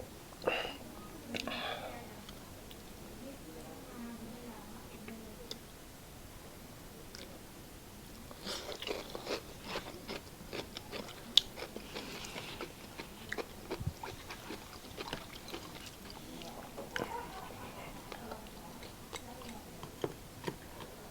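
Crunchy lechon skin, the crackling from a roast pig, is bitten and chewed close up in a series of crisp, irregular crunches, with soft whispering early on.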